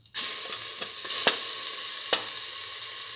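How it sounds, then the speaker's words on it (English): Ginger frying in a pan with a steady, close hiss of sizzling throughout, broken by a few soft clicks of stirring. "put in the ginger"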